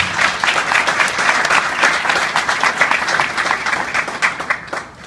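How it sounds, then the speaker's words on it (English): Applause at a Federal City contract signing ceremony: a close, lively crowd claps with distinct individual hand claps audible in the mix, holding steady for about five seconds before tapering off. "Please, a round of applause."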